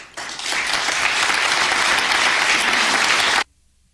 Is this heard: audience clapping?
yes